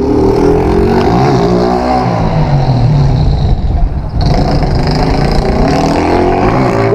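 A motorcycle engine revs hard and rises in pitch during a wheelie, loud and close, with a brief dip in power partway through before it climbs again.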